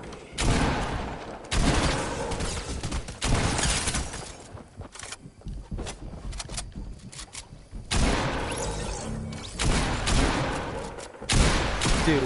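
Fortnite gunfire crackles in loud, close bursts: rapid volleys of shots separated by short gaps, heavy clusters at the start and again near the end, with quieter scattered pops between.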